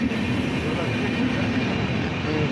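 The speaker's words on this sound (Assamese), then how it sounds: "ট্ৰেইন আহি পালে পুৱা 3:30 বজাত" A train arrives at a station before dawn, giving a steady, loud rumble with a broad wash of mechanical noise that stays even throughout.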